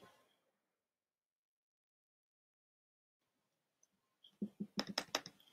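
Quick run of crisp keystrokes on a computer keyboard while copying a folder for students in a classroom setup, a short burst of clicks near the end after mostly silence.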